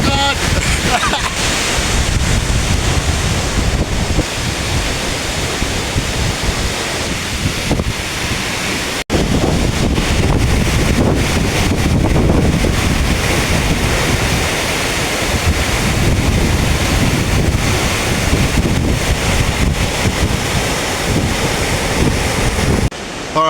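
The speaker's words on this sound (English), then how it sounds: "It's so windy and the water coming off this waterfall is like icicles hitting me in the back of the neck" Strong gusty wind roars against the microphone at the base of a rainforest waterfall in Killarney, Queensland, with a dense, constant rush of falling water and spray filling the background throughout.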